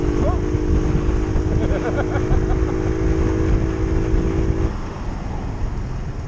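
A vehicle engine drones at wide open throttle, a loud, steady, buzzing hum with strong wind rush over the microphone, dropping off slightly near the end.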